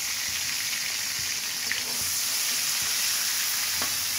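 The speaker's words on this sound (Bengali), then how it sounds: "আমি এখন চিংড়ি মাছগুলো ভেজে নিচ্ছি।" Large prawns frying in hot oil in a kadai give a steady, close sizzle with crackling spatter all through, no voices.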